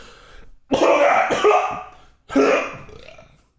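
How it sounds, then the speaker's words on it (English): Two harsh, loud bursts of coughing and throat-hacking from choking on coffee, close up, separated by a short pause. "I'm choking on coffee"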